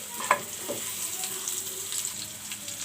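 Garlic and onion frying in a pan, a soft, continuous close sizzle with a couple of light clicks from the utensil early on, no talking.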